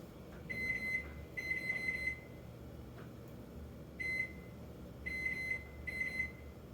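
Repeated bursts of electronic alarm beeping from a clock, a steady high tone in short clusters, over a low background hum.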